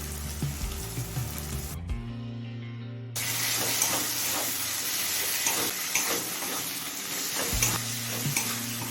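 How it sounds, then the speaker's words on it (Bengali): Chopped green and red chillies fry with ginger-garlic masala in a pan for a dhaba-style egg chicken tarka, making a loud, steady sizzle with occasional stirring scrapes, broken briefly by a short quieter stretch. "লঙ্কাটা দিয়ে আরও দু তিন মিনিট কষিয়ে নিয়েছি"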